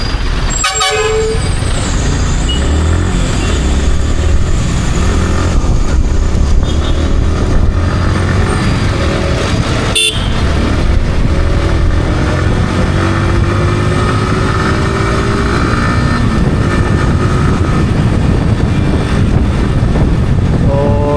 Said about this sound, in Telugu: చూడండి పొద్దున్నే ఎంత ట్రాఫిక్ ఉందో